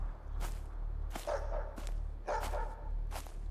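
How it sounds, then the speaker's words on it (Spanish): Distant dog barks from a horror video game, Playback Trauma: The Dog, set in a dark forest, coming as several sharp, spaced calls over a steady low background drone. "Lo raro es que le escucho ladrar, pero no nos acercamos"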